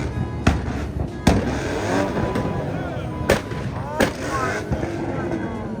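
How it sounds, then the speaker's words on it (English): Loud Ford Mustang engines rev and roar in a continuous growl at a car meet, with sharp pops and bangs breaking through several times. "all these Mustangs started revving it"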